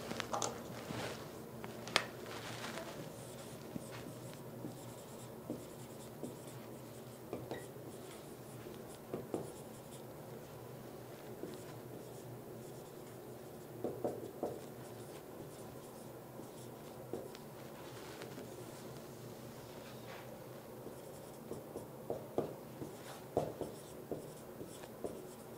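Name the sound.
writing with orange marker on a board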